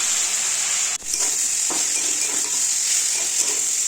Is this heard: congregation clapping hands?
no